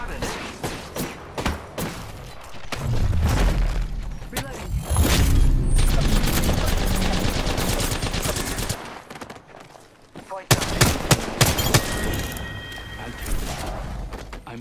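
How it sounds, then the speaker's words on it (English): Gunfire in the video game Apex Legends: rapid automatic bursts and heavy thuds in dense volleys, a brief lull, then more sharp shots and mechanical clanks, all loud and close. "Opening fire on the enemy. I am taking fire, friends."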